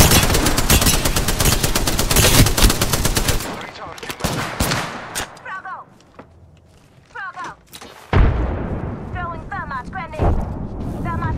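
An airstrike in the Apex Legends video game: rapid gunfire and heavy booming blasts dominate the first few seconds, then quieter scattered shots and thuds follow, with sharp impacts returning near the end, loud and close throughout.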